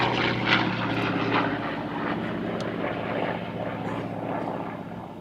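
A vintage propeller aeroplane with a roughly 2,000-horsepower engine flies at the Flying Legends air show at Duxford, a steady droning engine roar that holds loud throughout and eases slightly toward the end.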